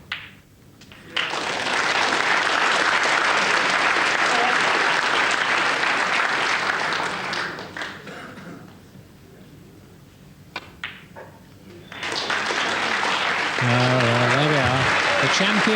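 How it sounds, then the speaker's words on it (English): Steady, loud audience applause fills a snooker hall at the close of a 1991 World Championship first-round match, dipping briefly midway before swelling again, with a commentator speaking over the end. "the applause says it all"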